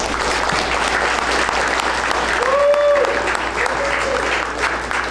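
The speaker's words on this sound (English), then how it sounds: "clap one more time, twice as loud, for Laura Austin." A comedy roast audience claps loudly and continuously in a dense wave, with a brief tonal sound and faint voices mixed in around the middle.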